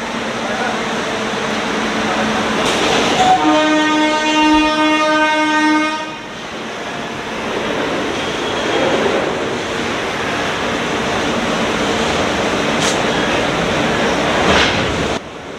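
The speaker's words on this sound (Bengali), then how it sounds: "আর তোমরা দেখতে পাচ্ছ সামনে মালগাড়ি যাচ্ছে" A freight train rolls past at Netaji Subhas Bose junction, a loud close rumble with a sustained horn blast partway through, then continuing rail clatter and a sharp screech near the end.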